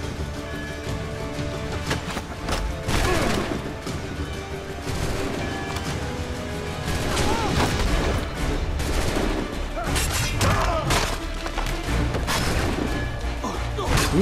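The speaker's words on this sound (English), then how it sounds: "Who is everyone shooting? I just hear constant gunfire." Constant gunfire and crashing impacts in the Assassin's Creed III video game during a battle at Boston's forts, loud dense volleys under game music and effects, with occasional voices.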